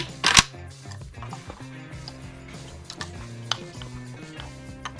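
A Yugo Zastava AK rifle trigger is pulled straight through, giving one loud, sharp mechanical click at the start, then a few faint ticks.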